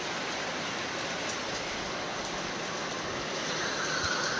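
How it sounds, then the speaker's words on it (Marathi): Heavy monsoon rain at Dapoli on the Konkan coast makes a loud, steady, dense roar of falling water that stays even throughout, with no voices. "पाऊस बघा किती आहे इकडे"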